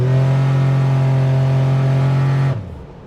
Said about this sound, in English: Let's give her a little bit of gas.